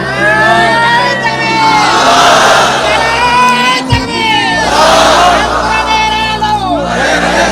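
A crowd at a Bangla Islamic sermon gathering chants the takbir in loud, rising-and-falling group shouts, repeated twice with a brief thump between.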